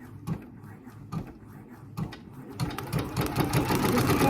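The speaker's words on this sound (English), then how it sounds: "When I click lock, it turns to green, which means we're ready to start embroidering." A Brother VR embroidery machine stitching a design onto a golf towel, starting with a few spaced mechanical clunks and then settling into a loud, rapid, continuous needle chatter close by.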